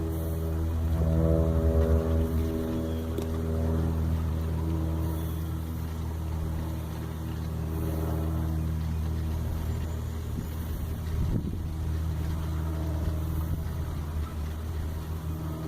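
RC model USS Shark Skipjack-class submarine surfacing and running, a faint steady motor hum with low droning tones and some water noise, heard alone at moderate distance.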